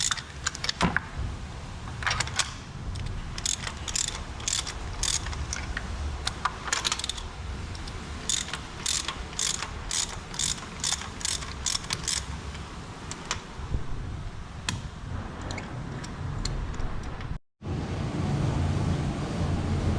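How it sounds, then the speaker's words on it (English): Steady ratcheting clicks of a 16mm wrench as spark plugs are loosened anti-clockwise on a Kia Rio 1.2 petrol engine, close and fairly loud, with a brief pause near the end. "Next I'm going to open the spark plugs with a 16mm wrench."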